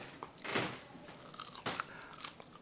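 Homemade French fries crunch crisply as they are bitten into, two or three sharp, close bites standing out in an otherwise quiet kitchen.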